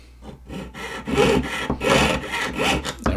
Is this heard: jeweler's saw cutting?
yes